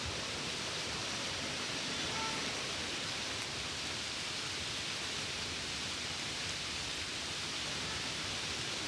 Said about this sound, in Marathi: रात्रभर पाऊस कोसळतोय आणि आज सकाळी सुद्धा पावसाची संततधार सुरू आहे